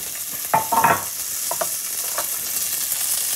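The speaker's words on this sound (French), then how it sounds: "Eh bien, je vais ajouter les oignons." Onions sizzle and crackle in a hot frying pan, with a few louder stirring scrapes near the start and a steady fizzing hiss running throughout, close and moderately loud with no voices.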